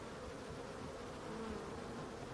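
Wild bees buzzing steadily at their colony in a Breton marsh, a dense continuous hum from many insects up close, with no voices.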